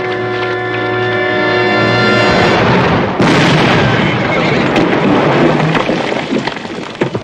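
Gunfire in a western TV movie set on the Ponderosa, a rifle shot fired at range: a loud blast around the three-second mark gives way to a long, dense rumbling wash that tails off with scattered pops.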